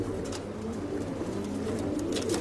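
Young diving pigeons kept in a loft coo in a steady low murmur, with scattered flutters and faint rustling nearby, continuous and fairly quiet, without speech.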